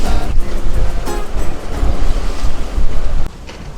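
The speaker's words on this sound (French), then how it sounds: "Le vent il est à peu près constant, 25 nœuds environ." Wind blows a steady 25 knots over waves at sea aboard a sailboat sailing from Las Palmas toward Lanzarote. Loud gusts buffet the microphone over surging, rushing water, then ease near the end.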